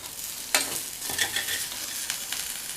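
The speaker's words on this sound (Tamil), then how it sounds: "தூவிட்டு நல்லா ஒரு தடவை பரட்டி விட்டுடலாம்." A spatula stirring a plantain pepper-cumin fry in a pan, giving a few scraping strokes over a soft continuous sizzle, close and fairly quiet.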